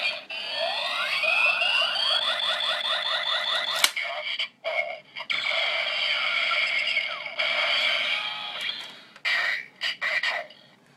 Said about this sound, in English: You lift it up, so it starts up the charging sequence, and you pull it all the way, just like in the show, and it'll do cast off.